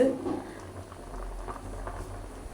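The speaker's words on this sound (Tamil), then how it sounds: "மீன் குழம்பு பார்த்தீங்கன்னா நல்லா சூப்பராக கொதிச்சு கொண்டு இருக்குது" Fish curry boils steadily in a pot on a stove, giving a continuous soft bubbling and popping that stays close and even throughout.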